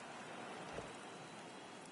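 Rain in the racing game Project Cars 2, a faint steady hiss of falling rain with scattered drop patter and no voices.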